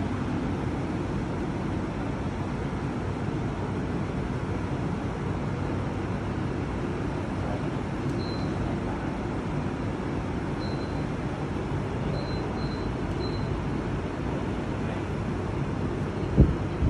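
A large Sumika 9000 evaporative air cooler fan, running at speed setting 3, emits a steady, even whoosh of airflow with a constant low hum and no pauses.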